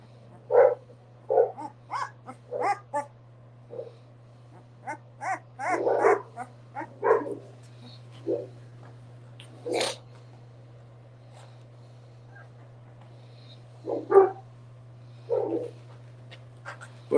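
Boerboel puppies eleven days old yip, whimper and give short high barks in scattered bursts over a steady low hum, close by and fairly quiet, with longer pauses between the cries.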